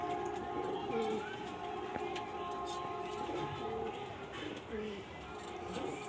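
White female pigeon cooing softly amid steady background noise, low murmuring coos spread through the stretch without a clear break.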